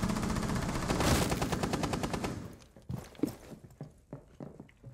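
Video game gunfire opens with a loud, sustained burst of rapid automatic shots, then tapers into a few scattered single shots and thuds, with no speech.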